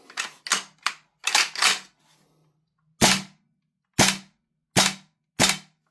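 A Tokyo Marui Saiga-12K airsoft shotgun fitted with an ITP suppressor fires sharp, snappy cracks: a quick burst of five shots, then four evenly spaced single shots, close and clear with no voices.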